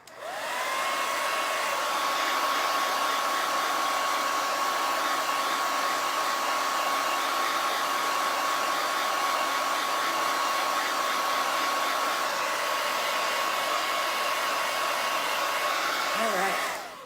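Hair dryer blowing at steady high speed up close to dry chalk paste, a continuous loud whooshing hum that runs for most of the clip and then cuts off.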